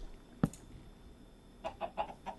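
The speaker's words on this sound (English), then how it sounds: "And then the clucking." Chickens cluck in a video game, a single sharp squawk followed by a quick run of four or five short clucks close by, over a faint steady background.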